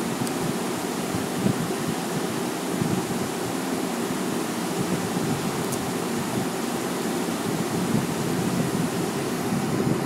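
Cumin seeds sizzle in hot oil alongside bay leaf and dried chillies, a steady, even hiss of frying with no talk over it.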